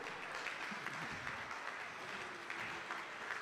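A crowd at a 92nd Founders' Day celebration claps steadily, a faint, even patter of applause heard from some distance that holds for a few seconds without a clear break.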